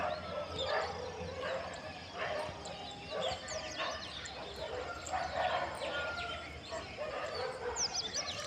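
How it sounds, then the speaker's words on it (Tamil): A dog barks repeatedly in the distance amid birdsong and a faint outdoor background, with a voice speaking softly at times. "நாயும் கத்திட்டு இருக்குது."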